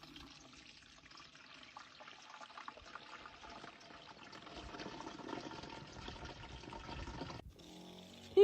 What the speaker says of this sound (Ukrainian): Тепер заливаю його в свій новенький оприскувач.